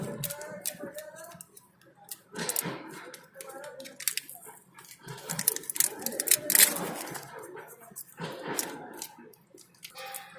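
A 10 mm T-handle socket wrench ratchets as it tightens a bolt while a telematics device is fitted to a truck, with a vise nearby. Quick ticking clicks come in uneven bursts under ongoing speech.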